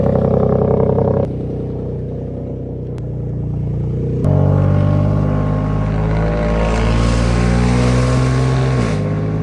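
Ford van cold-starts with a cranking whine, then catches into a loud, raspy, rumbling exhaust idle through a cat-back system, close and steady with the revs settling.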